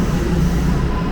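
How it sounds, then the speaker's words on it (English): Toronto TTC subway train rumbling steadily nearby, a loud continuous low roar with a faint high whine, no speech. "Now it will become a northbound train heading north to Finch."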